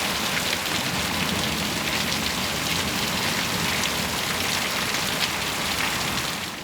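Heavy thunderstorm rain pours in a dense, steady hiss of drops hitting surfaces, loud and unbroken throughout with no voices.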